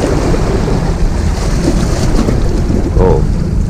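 Big ocean waves break on a beach, a loud, continuous rumbling surf mixed with strong wind buffeting the microphone, close and without pause.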